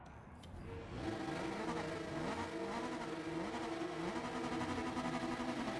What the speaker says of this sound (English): The background revving noises.